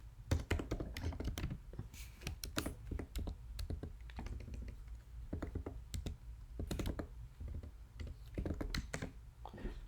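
A computer keyboard clatters as Java code is typed in close, rapid bursts of clicky keystrokes with short pauses between runs.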